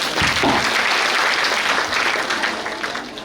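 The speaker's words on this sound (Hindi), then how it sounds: "जोरदार तालियों के साथ में" Loud audience applause at an inauguration cultural program at Vishwa Parivartan Bhavan, Amravati, a dense sustained roar of many clapping hands that slowly tapers toward the end.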